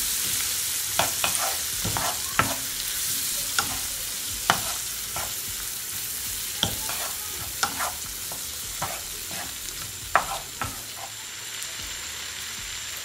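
Shrimp stirred with garlic and butter in a hot pan, a steady sizzle under repeated sharp scraping and clinking strokes of a utensil against the pan, close and clear.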